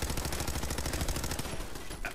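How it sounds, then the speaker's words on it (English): Rapid, sustained automatic gunfire from a machine gun turret in the Fallout 4 video game, dense rhythmic bursts hammering loudly and continuously for about two seconds with no talking. "Oh, that machine gun turret shoots back, doesn't it?"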